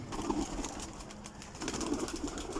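Female pigeons coo inside their room of a breeder's loft, a continuous low murmur of overlapping calls with faint rustling throughout.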